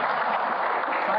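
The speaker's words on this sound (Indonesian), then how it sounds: "Tepuk tangannya mana?" Crowd at a ketoprak traditional Javanese theatre performance breaking into a brief, dense burst of applause and cheering, loud and continuous, sounding slightly muffled.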